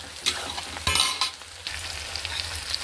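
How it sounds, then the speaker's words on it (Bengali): Onion, chilli and capsicum fry in a pan for chilli chicken. A close, steady sizzle runs under sharp scrapes and stirring clatters, with no talk. "পেঁয়াজ লঙ্কা ক্যাপসিকাম দিয়ে আমার এটাকে ভালো করে ভাজা হয়ে গেছে।"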